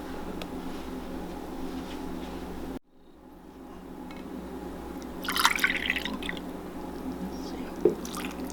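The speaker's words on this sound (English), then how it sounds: "I'm gonna add a little bit more water." Water is poured into a sourdough dough of millet and spelt flour, giving a short splashing, dripping pour midway through a quiet kitchen background, followed later by a single soft squish.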